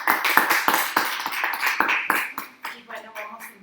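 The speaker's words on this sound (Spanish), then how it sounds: "Le damos un aplauso." An audience at a systems-thinking seminar session applauds after a presentation. Many close, crisp claps ring out together, then thin and fade while a voice begins speaking underneath.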